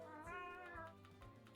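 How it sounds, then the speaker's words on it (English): A cat gives a single drawn-out meow, close and fairly quiet, with a slight rise and fall in pitch and no talking over it. "Cat sounds."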